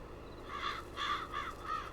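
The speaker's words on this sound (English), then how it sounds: "The crows are not happy with us today." Crows caw in Farming Simulator 22 as a rural game scene plays, giving four harsh calls in loose succession at moderate distance over a steady low background hum, with no talking.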